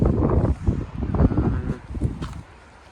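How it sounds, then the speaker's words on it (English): Strong gusts of around 25 mph buffet a microphone at a plane spotting spot by the Kern River, a loud, rough rumble that surges and falls in uneven bursts before easing off at the end. "I'd say like 25-mile-an-hour winds"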